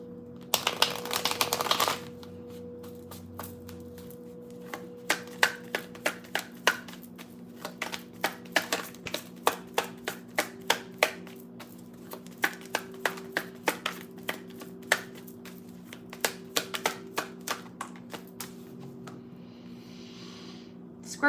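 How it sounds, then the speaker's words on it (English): Tarot cards shuffled by hand during a live collective reading, a long run of crisp, evenly spaced riffling taps and snaps, close and clear over a quiet steady hum. "One more shuffle."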